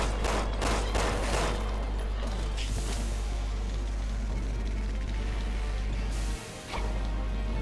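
Gunfire at enemies in Resident Evil 6, a loud rapid burst of shots at the start followed by sustained dense battle noise, with a constant low rumble beneath.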